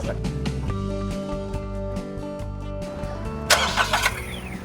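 A Wagon R car engine cranks with rhythmic pulses and catches, then a brief louder rev settles into a steady idle, heard close up.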